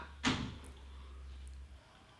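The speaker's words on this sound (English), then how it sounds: "Marcus, close the door" A door closes with a single quick thud near the start, followed by a faint room hum that fades out, with no talking.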